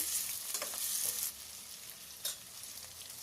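Beans and vegetables frying in a pan for uppittu: a steady hiss of sizzling oil, loud at first and then settling lower, with a brief stir-like flare partway through and no voices.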